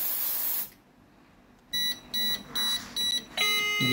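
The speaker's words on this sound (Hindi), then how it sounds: "ये स्मोक आ गई और उसके बाद ये स्टेज वन का एक साउंडर एक्टिवेट हो गया" A stage one sounder on an INIM addressable fire suppression panel switches on after a smoke-spray test, giving a steady run of rapid, evenly spaced electronic beeps that follow a loud spray burst and a short pause.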